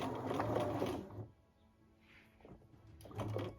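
Sewing machine running in short close bursts while back stitching a fabric scrunchie, whirring for about a second, pausing briefly, then starting again.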